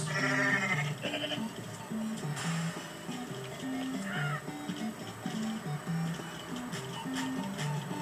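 Goats in Goat Simulator bleat over and over in a steady, repeating stepped pattern, with clicks and other game noises mixed in.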